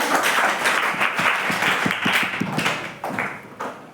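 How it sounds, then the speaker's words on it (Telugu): A classroom of children claps together, a dense, steady round of applause with sharp individual slaps, close and lively, gradually thinning toward the end. "చప్పట్లు కొట్టండి."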